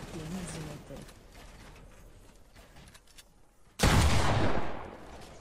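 Gunfire in a duo tournament video game: a sudden loud, close blast cuts in after excited voices chatter over faint game sounds, then trails off.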